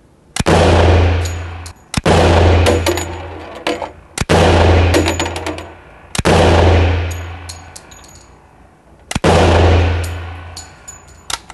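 A gun fires five loud, close shots, spaced about two seconds apart. Each one cracks sharply and then rings out in a long, decaying metallic tail before the next shot.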